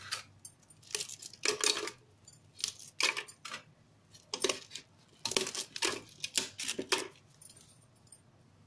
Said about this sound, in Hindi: अब इसमें हम ब्रेड को तोड़ के डाल देंगे सारे